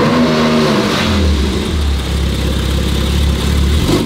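Porsche 991 with a sport exhaust system, its engine revving and then settling into a deep, steady rumble, loud and close, with no voices.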